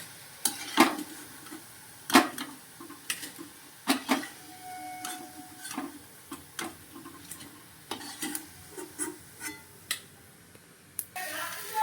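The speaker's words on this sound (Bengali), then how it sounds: "এরকমভাবে সব ভেজে নেবো, যেরকম প্রসেসে আগে দিলাম সেরকম পদ্ধতিতেই সবগুলো ভেজে নেব" Ripe Amrapali mango fritters (fulori) sweetened with jaggery frying in hot oil, a steady sizzle broken by repeated sharp scrapes and clinks of a spatula against the pan.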